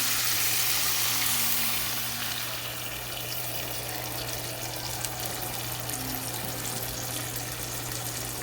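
Canned coconut milk hits a pan of fried spice paste for a Thai-style egg curry, setting off a loud burst of sizzling that settles into a steady, continuous bubbling hiss, with no talking.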